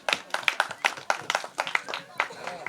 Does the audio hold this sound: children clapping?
yes